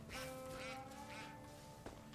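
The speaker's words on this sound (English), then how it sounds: "Some ducks." Ducks quack faintly in the video game Far Cry 5, a few soft calls over a low steady game-ambience hum.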